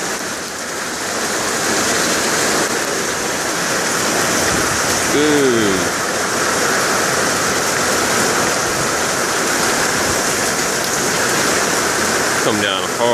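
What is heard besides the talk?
heavy rain pouring down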